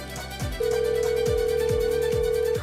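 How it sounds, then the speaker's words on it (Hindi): A phone ringing tone sounds steadily and loudly for a couple of seconds, with a repeating rhythmic pattern underneath. "घंटी जा रही है।"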